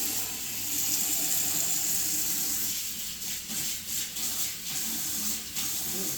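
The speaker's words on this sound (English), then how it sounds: "Sink drain works just fine." A bathroom sink faucet runs with a steady, hissing flow of water into the basin, then gurgles and fluctuates as the sink drains, close and fairly loud.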